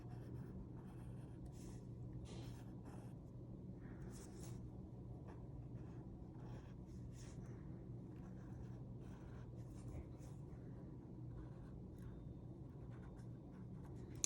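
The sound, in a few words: tracing a stencil on a taped-down surface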